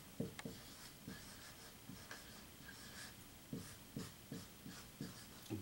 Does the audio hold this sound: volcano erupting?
no